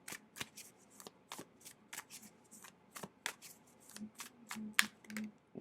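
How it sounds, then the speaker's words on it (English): Tarot cards pulled and slid from a deck, soft close papery flicks and snaps in an irregular rhythm, quiet and alone with no talking. "I'm going to pull the rest of the cards for you guys extended."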